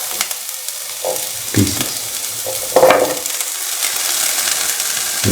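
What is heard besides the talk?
shallots and onion frying in a pan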